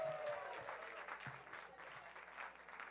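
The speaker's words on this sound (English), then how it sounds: "Give her a big round of applause" A comedy club audience at a Funny Bone graduation show in Virginia Beach applauds a comedian leaving the stage, a steady wash of clapping with no one speaking over it.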